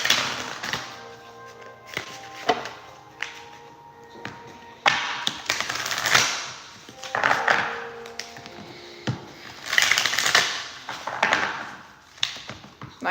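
Tarot cards being shuffled by hand, a run of dry papery taps, riffles and soft thunks in uneven bursts across the whole stretch, fairly close and with no one talking over it.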